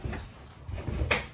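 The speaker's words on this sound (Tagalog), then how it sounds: "push to open drawer here" A push-to-open drawer in a DIY sliding-door bedroom wardrobe gives a couple of soft wooden knocks and bumps, then a sharper click-thud near the end, heard close with no talking.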